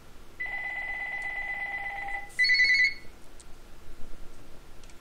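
A telephone rings electronically in a quiet room: a steady two-tone trill for about two seconds, then a brief louder burst, fairly close with no talking.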